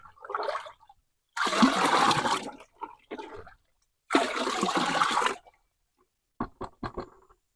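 Liquid root and shoot stimulant fertilizer poured out until the container is empty: loud gurgling bursts of pouring in two long glugs, then a few short dribbling splashes as it runs dry, close and with no talk.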